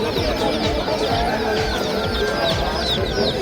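Chickens, including small chicks, cluck and chatter in crates at a busy Sunday pet market in Erragadda, a dense, loud overlapping flock sound with no pauses.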